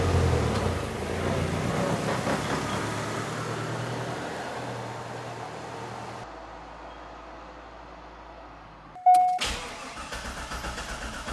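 A Corvette C5 engine cranking and catching, preceded by a long steady rumble of a running vehicle, then a sharp burst as the engine fires up and settles into a close idle.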